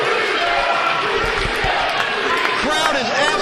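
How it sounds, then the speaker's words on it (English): Wrestling arena crowd at a live match, steady dense roar of cheering and shouting throughout, with a commentator talking over it and a few thuds. "Crowd is absolutely thrilled by it."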